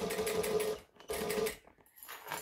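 A sewing machine stitches the sides of a bag in short bursts, two loud rapid runs separated by brief pauses with faint handling sounds.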